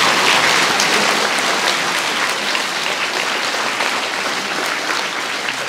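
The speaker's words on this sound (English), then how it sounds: "Let's give him a round of applause." Audience applause at an elementary school veterans assembly, a loud, dense burst of clapping from a crowd that holds steady for several seconds and fades slightly toward the end.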